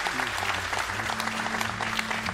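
Audience applause at a documentary film festival gala as an award winner is called to the stage, a steady dense wash of clapping throughout, with faint voices mixed in.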